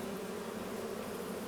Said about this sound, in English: The bees are busy